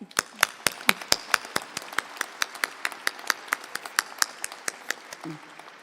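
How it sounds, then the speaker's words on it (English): Sparse, individual claps from a commencement crowd of university graduates, about twenty sharp separate hand claps spread across a few seconds, fairly faint, with a brief low murmur near the end. "Give yourselves a big round of applause"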